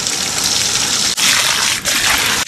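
Water is poured onto the dry soil beneath a mango tree, a close, loud, continuous gushing splash broken by two or three brief pauses.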